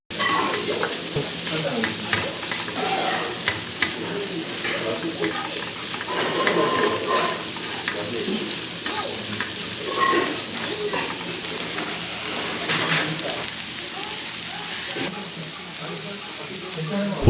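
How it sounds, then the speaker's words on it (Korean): Fried rice with bellflower root, mushrooms and bean sprouts sizzling and being stirred on a hot griddle with a rice bowl lid, steady frying hiss with scraping strokes and busy restaurant chatter. "볶음밥 하나를 주문하니 불판 정리를 해주시고 도라지, 버섯, 콩나물 무침을 넣고 무려 밥그릇 뚜껑으로 아주 멋지게 볶아주십니다"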